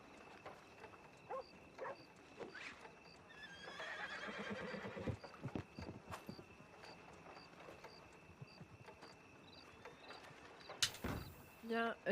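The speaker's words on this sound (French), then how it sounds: "Il y a encore un cheval coincé chez le tailleur" A horse gives a loud, drawn-out whinny in a stable setting, followed by scattered knocks, shuffling and hoof sounds, with a voice briefly heard and a sharp clatter near the end.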